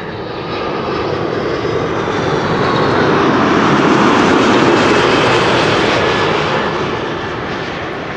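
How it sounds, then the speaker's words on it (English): A Delta Air Lines Airbus A330 airliner arriving from Detroit gives a loud, broad jet engine roar. It swells to a peak midway and then eases off as the aircraft passes close by, with no talking. "This is Delta Airlines Flight 136. It's an A330 arriving from Detroit, Michigan."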